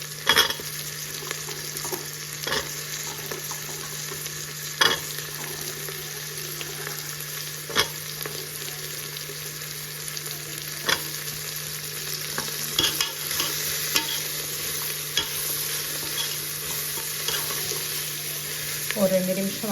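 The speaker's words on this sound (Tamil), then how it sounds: "ஒரு 2 நிமிஷம் வதங்கட்டுங்க" Chopped beans and carrots sizzle steadily in a hot pan, with periodic scraping clicks of a spatula stirring them.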